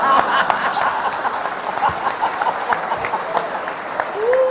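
Audience applause during a Dhamma talk at a Buddhist gathering, a steady, moderately loud wash of clapping with a few scattered chuckles through it.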